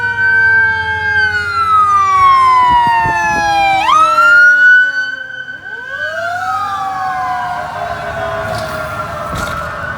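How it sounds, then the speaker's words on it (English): An ambulance siren wails loudly and close by as it passes near railroad tracks with a CSX train nearby, its pitch falling as it goes by. A second wailing siren follows, and no one speaks. "Here comes the ambulance."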